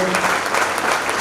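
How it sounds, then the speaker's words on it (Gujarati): Loud, thick applause rolls from a seated audience at a school campus event, continuous clapping with a faint murmur of voices beneath. "જોરદાર તાળીઓ"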